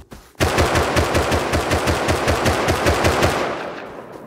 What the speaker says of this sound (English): I have explosive ammo.